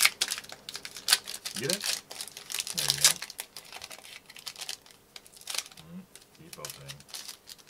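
Space Jam trading card pack wrappers are tugged and torn open, bursts of crinkly foil rustling and ripping in close irregular snatches, with people talking over it.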